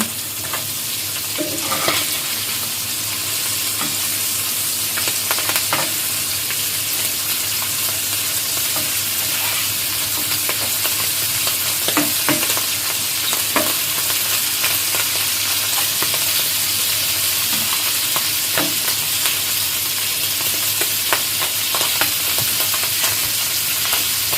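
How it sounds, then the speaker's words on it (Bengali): Fish fry in hot oil in a pan with a loud, steady sizzle throughout, broken by occasional clatters and scrapes as the pieces are turned over; no one speaks. "এখন আমি মাছগুলোকে উল্টিয়ে দেব।"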